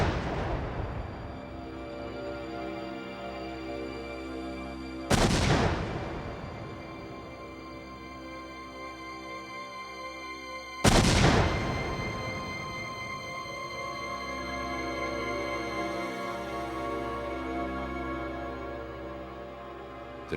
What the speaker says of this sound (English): the LAPD performed a test explosion in the California desert. They filled a pickup truck with a combination of ANFO and TNT